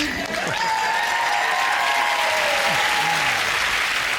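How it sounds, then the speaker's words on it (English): A TV panel show studio audience gives a big, sustained round of applause, a dense steady wash of clapping with a few cheers and voices mixed in. "a big round of applause for our meerkat"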